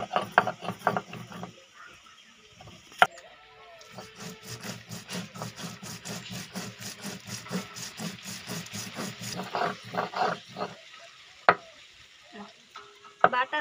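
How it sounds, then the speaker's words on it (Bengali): Cumin, coriander and chili being ground together into a paste for a jackfruit curry, a run of rhythmic scraping and grinding strokes that sound close and fairly steady, with short pauses between bursts. "জিরে ধনে লঙ্কা একসঙ্গে বেটে নেব।"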